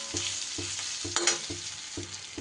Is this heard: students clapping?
no